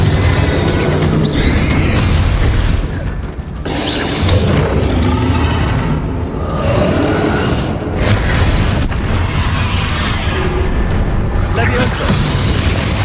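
Repeated fiery blasting-spell explosions from Hogwarts Legacy combat come loud and close, with booming bursts and whooshes over a dense, continuous layer of game action, spell effects and voices.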